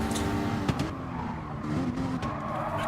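A McLaren race car in a racing game at Fuji at dusk, spitting flames: a loud, steady engine roar with passing cars and brief tire squeal, continuous throughout.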